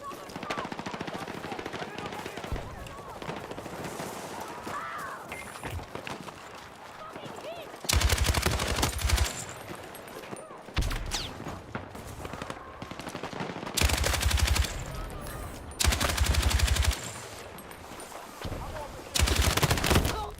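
Light machine gun fire in the Battlefield 6 beta: several loud, sustained automatic bursts of a few seconds each, separated by quieter stretches of in-game ambience and scattered shots.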